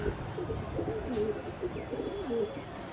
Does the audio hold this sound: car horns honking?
no